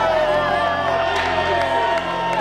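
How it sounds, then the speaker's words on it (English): A dense crowd at a Beer Patrol wrestling event cheers and whoops for the wrestler Hacksaw, a loud, steady roar of voices throughout. "Give a big round of applause for Hacksaw today"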